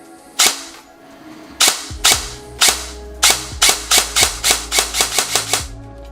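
Specna Arms SA-H12 airsoft replica, an HK416 Delta style rifle with a Kestrel V2 ETU, fires close and loud: sharp single shots spaced apart at first, then a quick steady string of about ten rapid shots.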